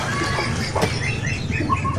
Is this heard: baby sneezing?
no